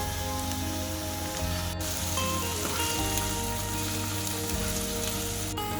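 Onion, green chilli and tomato fry in a pan for bread egg masala, giving a steady, fairly quiet sizzle like light rain, with an occasional clink.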